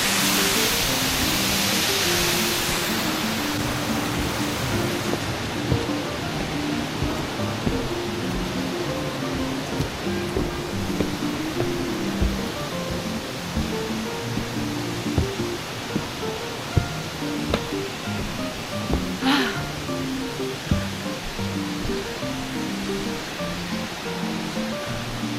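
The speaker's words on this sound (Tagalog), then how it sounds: "Love Waterfall!" Steady, loud rush of a waterfall at Cat Cat Village in Vietnam, a continuous broadband roar of falling water with no break, heard close up.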